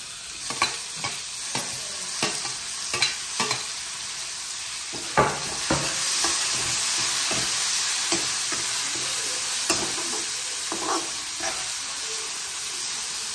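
Tomatoes sauté in a pan at home for a guests' meal, giving a steady frying sizzle throughout, broken by repeated scraping and clinking strokes of a stirring spoon. No voices.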